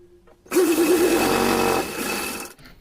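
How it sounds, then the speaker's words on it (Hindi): A sewing machine runs a straight seam on cotton cloth for a small Laddu Gopal dhoti, starting abruptly into a steady, close whirring hum for about two seconds before slowing and stopping. "यहाँ पर गोलाई को छोड़ देंगे, यहाँ सीधी सिलाई लगाएंगे और पलट देंगे"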